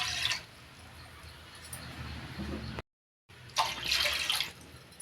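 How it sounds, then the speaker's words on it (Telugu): Water is poured from a cup into a cooking vessel in a kitchen while rice flour noodles are made, in two splashy bursts separated by a brief gap, close and fairly quiet. "ఇదే కప్పుతోటి నేను కప్పున్నర వాటర్ తీసుకుంటున్నాను"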